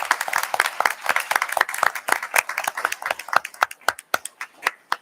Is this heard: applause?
yes